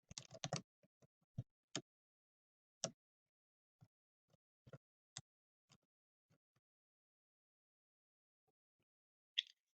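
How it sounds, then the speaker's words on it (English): Scattered clicks of keys on a computer keyboard, a quick burst at first, then slow, isolated taps with long quiet gaps, close and fairly soft. "as soon as I start typing"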